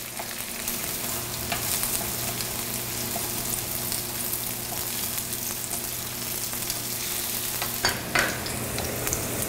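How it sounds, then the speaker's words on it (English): Shallots frying and charring in a pan, a soft continuous sizzle and crackle heard close up for the whole stretch, with a small clatter near the end and no voices. "And then I'll add the shallots to this side over here. And you don't have to fry it too long"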